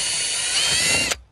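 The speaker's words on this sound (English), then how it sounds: "we're gonna drill holes now" A power drill whirs steadily for about a second at close range, then cuts off abruptly as the bit breaks through thin plastic.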